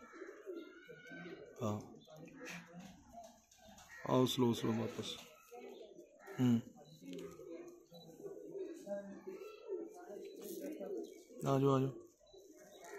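Pigeons at a breeder's loft coo softly and intermittently, with a few louder bird calls mixed in, while someone speaks throughout, calling the birds in.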